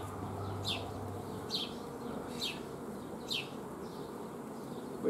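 Honey bees buzzing around a hive, a steady close drone with individual bees zipping past several times in brief louder passes.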